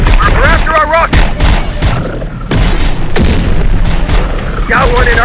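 Gunfire and booming explosions in the video game Terminator Dark Fate Defiance, a dense, loud barrage of shots and blasts with voices and radio chatter layered over it throughout.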